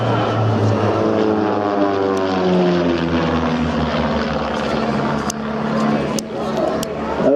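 Pitts aerobatic propeller plane flying at the Clacton-on-Sea air show in Essex, a steady droning engine with shifting pitch that holds loud throughout, overlaid by a voice talking.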